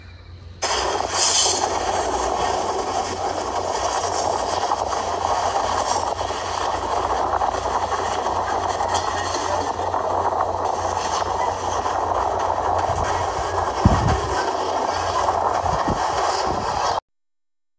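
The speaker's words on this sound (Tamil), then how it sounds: "இப்படியே இந்நேரம் ட்ரெயின் கிளம்பி இருக்கும்" A train rumbles past in a long, steady roar, with faint metallic squeals and clanks rising briefly near the end before it cuts off.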